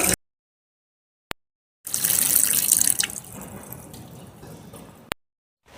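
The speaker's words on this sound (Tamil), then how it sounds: "டேய் ஏன்டா குழாயை மூட மாட்டேடா" Water gushes from an open tap, loud at first and then settling into a softer steady flow for about three seconds, with silence before and after and no talking.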